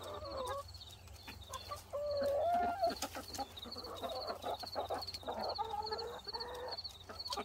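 Chickens clucking and softly calling in short, irregular bursts at moderate distance, with a higher warbling call and a faint repeating chirp in the background over low hum.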